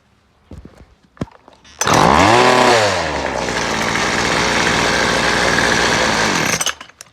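A Weedeater Featherlite FL20 string trimmer, running again after new fuel lines, pulls to a start with a few short cranks, then roars loud and close, revving up and settling into a steady high buzzing idle for several seconds before cutting off.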